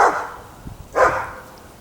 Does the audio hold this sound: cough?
no